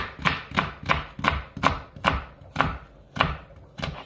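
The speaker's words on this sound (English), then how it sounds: "I'm gonna cut up my onion and stuff now." A knife chops through an onion on a cutting board during home curry cooking, with about ten evenly spaced, close, crisp strikes alone.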